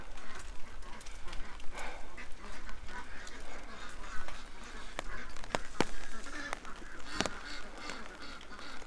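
Ducks and geese in a rainy farmyard, scattered honks and quacks among a steady wash of rain, with someone talking intermittently.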